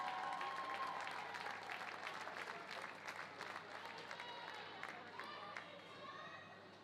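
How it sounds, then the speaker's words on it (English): Spectators at a college swimming and diving championship applaud and cheer for the swimmers in an echoing natatorium, with bright whistles and voices mixed into the dense crowd noise. "Let's have one more big round of applause for these swimmers."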